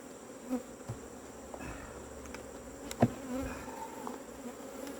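Swarm of agitated honeybees buzzing steadily close by during a hive inspection, a dense continuous drone with a few sharp individual bees passing near and brief handling knocks.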